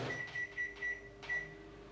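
A microwave oven runs with a steady low hum, overlaid by a few short rhythmic rattles or clicks while it heats a gluten-free, dairy-free bread batter in a dish.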